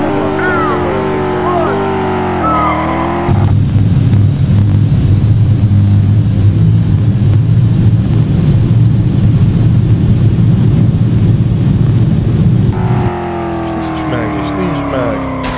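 A game car engine in StreetLegal Redline holding a loud, sustained roar under continuous nitro boost for about ten seconds, bracketed by whining gear-shift revs at the start and end, close and dominant, with occasional voices around it.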